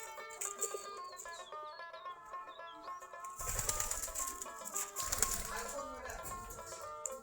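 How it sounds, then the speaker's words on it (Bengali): Local Giribaz pigeons coo softly and flap their wings around their coops, with quiet calls at first and then a burst of louder fluttering and rustling, moderately close with no talking. "সবগুলা দেশি গিরিবাজ কবুতর।"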